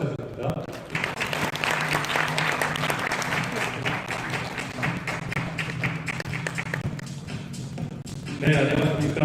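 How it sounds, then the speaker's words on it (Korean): An audience in the Coex Grand Ballroom at the Saltlux AI Conference 2020 claps steadily for several seconds, fairly distant and even, before a voice starts speaking as the applause fades. "큰 박수 부탁드립니다."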